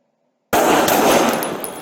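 Gunfire erupts suddenly during a police officer-involved shooting in Hollywood, a loud, harsh burst of rapid shots cutting in after silence, with a voice faintly underneath.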